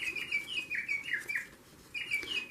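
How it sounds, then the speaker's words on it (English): A bird clock sounds a recorded bird call: bright, repeated chirping phrases in quick bursts, a brief pause, then another burst of the same song, moderately close against quiet room background. "That's my bird clock."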